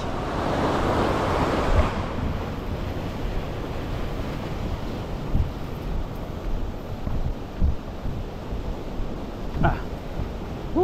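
A river in spate, its water risen high and flowing with a strong, dangerous current at a fishing spot, rushes as a steady, loud, broadband roar with no break and no voices.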